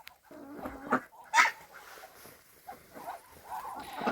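Hens and a rooster cluck and murmur nearby in an irregular stream, with a few louder squawks rising above the soft, steady barnyard chatter, in a snowy yard.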